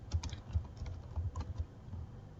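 Soft keystrokes on a computer keyboard as text is typed, irregular clicks and taps in short clusters, quiet and close with no talking.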